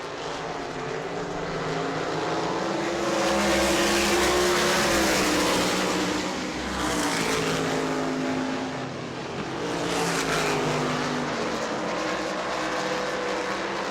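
Race cars at the New Smyrna World Series, Florida, run in a pack, their engines droning and swelling in waves as the field passes, steady and fairly loud with no voices.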